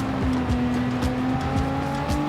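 Racing car in Gran Turismo 7 accelerating gently at partial throttle, a steady engine drone with gradually rising pitch and faint tire noise, alone and close.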